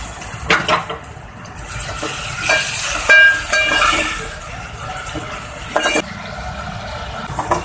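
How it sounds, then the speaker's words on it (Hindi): Chopped onions frying in oil in a pan at the start of a fish curry, giving a steady close sizzle with occasional stirring scrapes and light clinks of a utensil, no talking. "इसमें हम प्याज डाल देंगे जो हमने कटिंग की थी। प्याज फ्राई करेंगे, प्याज को हम ब्राउन करेंगे।"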